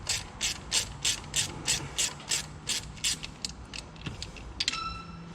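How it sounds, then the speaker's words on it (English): A hand ratchet clicks in quick, regular bursts close by while bolts are backed out on an LB7 Duramax during a high-pressure fuel line replacement, followed by a few metallic clinks and taps. "Just pull these bolts out."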